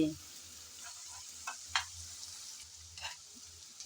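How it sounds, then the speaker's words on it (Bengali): Onions frying in oil in a pan while being stirred. A soft, steady sizzle stays faint and close, with a few light spatula scrapes and taps breaking through. "আমি নেড়ে চেড়ে কিছুক্ষণ পেঁয়াজটা ভেজে নিয়েছি"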